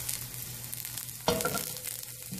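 Sausage sizzling and crackling in hot oil in a pan over medium-high heat, with a soft clatter partway through as the food is stirred or moved.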